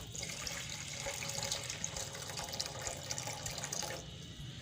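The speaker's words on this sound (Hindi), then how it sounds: "अब मैं इसके अंदर पानी डालूंगी" Cold water pours steadily into a pot for Kashmiri chai after baking soda has been added, a continuous splashing stream at moderate level that tapers off near the end.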